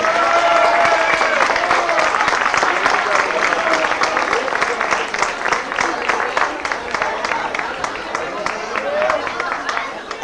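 Crowd applause at a village festa major for the second festival lady, a sustained dense patter of many clapping hands, fairly distant and even throughout, with a voice speaking over it.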